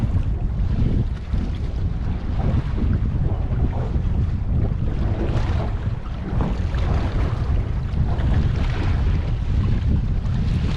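Strong gale wind at sea buffets a small boat on open water, a steady loud roar with waves slapping the hull throughout, no voices.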